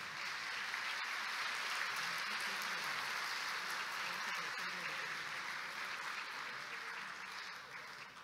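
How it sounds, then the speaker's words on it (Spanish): An audience at a professional engineers' induction ceremony applauds as a name is called: a sustained, even wash of clapping heard from some distance, easing off slightly at the end. "Todos quieren ser últimos para tener más cantidad de aplausos"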